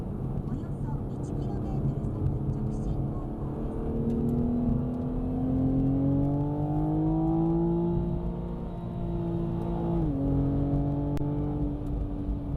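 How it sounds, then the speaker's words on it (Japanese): A Toyota GR Supra inline-six on its stock muffler revs hard in third gear while merging onto a highway, the engine note climbing steadily for several seconds, dipping briefly at a shift point, then pulling again, heard from inside the cabin. "ギアを3速に固定し、安全に配慮した上でアクセル踏み込んでみます。"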